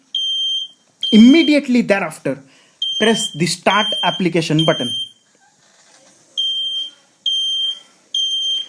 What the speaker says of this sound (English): So let me start the fire alarm installed in my home.